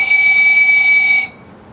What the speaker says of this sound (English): And then I also made a train whistle. So I'll blow that so you can kind of hear what sound it makes.